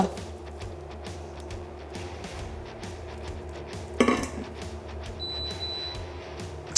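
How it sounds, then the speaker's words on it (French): Quiet kitchen clinking and background hum, then a sharp clatter as veal drops into a metal saucepan, followed by faint scraping. "je vais mettre la viande dans ma casserole"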